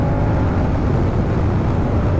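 A 2023 Moto Guzzi V100 Mandello motorcycle ridden on the road gives off a steady, loud engine drone mixed with wind rush, unbroken throughout.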